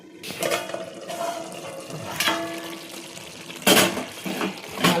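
Water poured into a pan of brinjal and potato curry, a close, splashing gush with a couple of louder bursts over about five seconds, with no talk.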